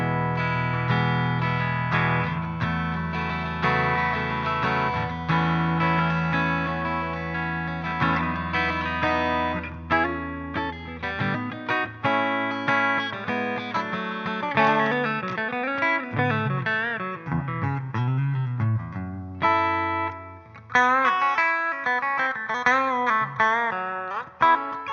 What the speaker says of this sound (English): let's just go through a reasonably dry clean tone with a little bit of reverb on it